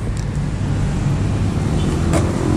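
A Yamaha NMAX scooter pulling off on a test drive gives a steady, close, low engine rumble with faint road noise around it.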